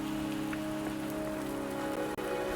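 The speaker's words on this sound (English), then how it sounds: "Don't worry, the rain won't last much longer." Steady rain falls in the video game Wuthering Waves, a continuous even patter on surfaces with a low ambient hum underneath and no voices.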